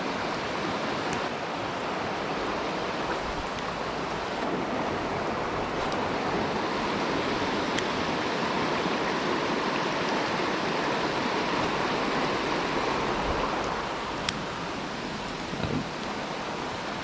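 Water rushes down a creek swollen by heavy rain, a continuous loud roar of broad noise that barely changes across the stretch, with no voices.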